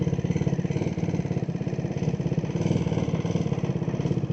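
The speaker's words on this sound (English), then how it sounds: "once it gets like warmed up, it starts revving really high." A motorcycle engine runs close by at a fast, steady rev with a rapid pulsing beat and some mechanical clatter, holding the high note throughout with no voices.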